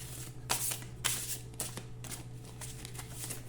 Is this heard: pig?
no